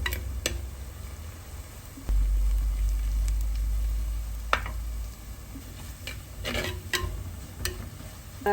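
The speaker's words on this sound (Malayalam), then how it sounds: "നമ്മുടെ ഇഞ്ചിയും തേങ്ങ ചെറിയ ഉള്ളി വെളുത്തുള്ളി എല്ലാം നമ്മൾ വഴന്ന് വരുന്നുണ്ട്" Ginger, coconut, shallots and garlic sautéing in a pan, with a steady low sizzle and occasional sharp taps and scrapes of a spoon stirring, close and moderately loud.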